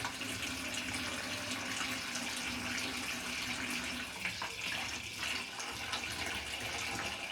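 Steady stream of water runs from a homemade electric instant water heater, a continuous close-up splashing rush that stays fairly even throughout with no talking.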